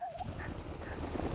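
Chickens clucking as they come running to a call on a farm, a brief scatter of soft fowl calls and scuffling close by, with no talk.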